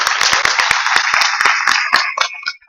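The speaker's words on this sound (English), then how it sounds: "Let's give them a big round of applause." Audience applause at a Jordan Essentials company conference, a dense burst of many hands clapping loudly and close, continuing for a couple of seconds before thinning out and fading.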